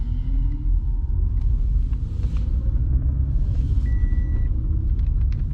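A car with about 177,000 miles rolls through a parking lot on a test drive; a steady low engine and road rumble fills the cabin, with faint light clicks and a brief thin tone above it.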